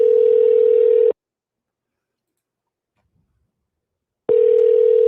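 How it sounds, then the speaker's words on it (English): Telephone ringback tone on an outgoing call: a steady electronic tone for about a second, then a long silence of three seconds, then the tone again, loud and clear with no talking. "you got to answer the phone if you want to get through"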